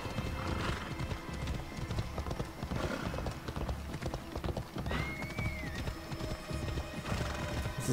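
Steady clip-clop of horse hooves galloping in a fast rhythm in the video game Assassin's Creed Odyssey, with a horse whinnying partway through and a busy, continuous game background.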